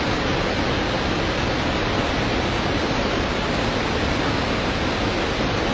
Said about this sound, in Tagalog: nakasara pero ang laki ng dinadaanan ng tubig.